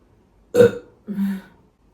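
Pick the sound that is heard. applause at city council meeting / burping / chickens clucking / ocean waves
burping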